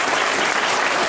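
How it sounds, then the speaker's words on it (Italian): A church audience applauds a priest during a bell inauguration ceremony, a dense, even roar of many hands clapping close by, with no letup across the brief moment. "al quale da fare un grande applauso"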